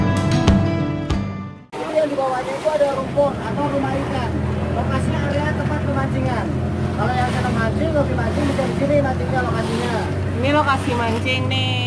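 A motorboat drones steadily at sea off Pasir Putih, Pangandaran, its engine hum constant and close beneath a wash of water noise, with people talking over it.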